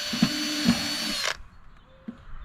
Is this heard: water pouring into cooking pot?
no